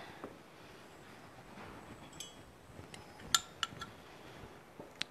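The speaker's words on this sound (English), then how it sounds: "So you mix, mix, mix until they're all combined" Wet and dry Anzac biscuit ingredients are stirred together in a bowl, giving faint scraping with sparse, sharp clinks of a utensil against the bowl, quiet and close with no talking.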